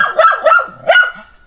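Small dogs bark in three sharp, loud yips close by, spaced about a quarter second apart, followed by a brief faint whimper.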